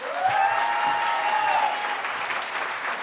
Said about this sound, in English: So, massive round of applause, please.